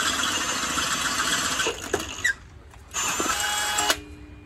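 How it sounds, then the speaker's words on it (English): A power tool enlarges a hole in the bottom plate for a 1986 Chevy S10 Blazer power steering pump, whining steadily and loudly in two runs with a brief dip between them. "Now we're going to enlarge the hole for the bottom plate that sits down onto the pump."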